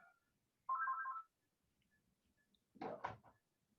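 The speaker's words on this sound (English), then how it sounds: "Forgive the phone ringing." A landline telephone rings indoors, one electronic ring burst followed after a pause by another, fairly clear against a quiet room with no speech.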